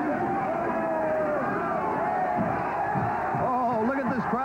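A wrestling crowd in a Montreal arena during a 1984 International World Wrestling match, a steady roar of voices with shouts rising over it under a commentator's talk.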